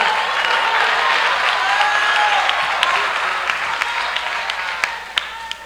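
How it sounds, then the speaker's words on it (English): Sustained audience applause fills the room at a speaker's talk, dense clapping that stays loud throughout and thins slightly toward the end, with a few sharper individual claps standing out near the close. "Thank you for all 10 of you that clapped"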